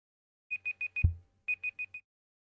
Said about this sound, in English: That's my alarm tone.